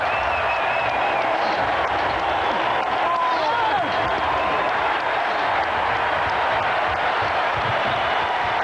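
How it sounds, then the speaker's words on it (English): A Washington Wizards basketball crowd gives Michael Jordan a standing ovation, a dense, steady roar of applause and cheering that fills the arena without a break, with faint whistles rising above the sustained clapping. "a standing ovation from this Wizards crowd"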